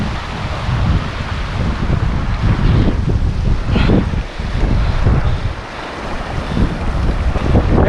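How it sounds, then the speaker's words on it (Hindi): Strong wind gusts drive water spray across the microphone near caves in Upper Mustang, Nepal, a loud roaring rush with buffeting surges and a brief lull midway. "पानी के बौछारें मेरे ऊपर आ रही हैं क्योंकि वो हवा लेके आ रही हैं"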